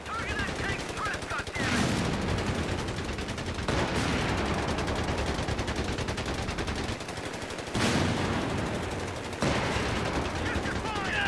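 Rapid machine-gun and rifle fire aimed at a Panzer tank in the World War II strategy game Company of Heroes 3, dense crackling bursts that stop and restart several times over steady battle noise.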